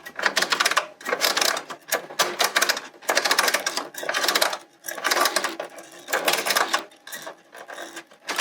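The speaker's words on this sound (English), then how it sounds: "Now I will turn the dial until you go back to the first row." Dial on a Brother punchcard knitting machine being turned, making bursts of rapid mechanical clicking and rattling in a steady on-off rhythm, close and fairly loud, with brief pauses between turns.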